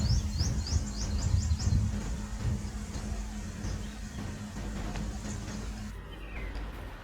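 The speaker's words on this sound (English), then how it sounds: "So we can hear a lot of chirping, but we don't see any animals or birds here." Small birds chirp in quick bursts at a forest waterhole in a tiger reserve. The chirps are faint and distant over a steady rumble of a vehicle engine, and the calls fade out after the first couple of seconds.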